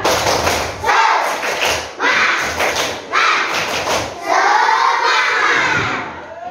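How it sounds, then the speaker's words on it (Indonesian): A fourth-grade class performs a rhythmic spirit clap together, rounds of loud group clapping and thumping mixed with children's shouted chanting, close and energetic. "Coba tepuk semangat dulu, tepuk semangat semuanya, tepuk semangat"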